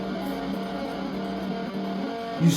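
Sustained electric guitar notes ringing out together, a steady hum of overlapping tones that keep sounding without being damped.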